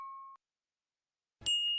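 A notification bell effect gives a short electronic tone, then a brief silence, then a bright, sustained ding that rings out clearly on its own, with no talk.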